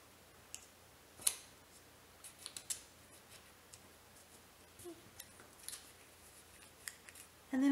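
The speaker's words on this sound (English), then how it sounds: "I'm just going to snip it across the bottom" Scissors snip across paper for a printable Halloween treat box, with a few sharp isolated cuts scattered through a quiet room, one crisp snip standing out near the start.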